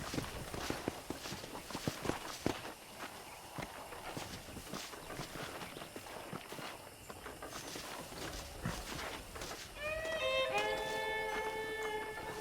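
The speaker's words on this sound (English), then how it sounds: "Okay, let's see if you can still ride a horse." Horse hooves clip-clop and footsteps sound in Red Dead Redemption on Xbox One X, a steady moderate patter mixed with game ambience, joined near the end by sustained musical tones.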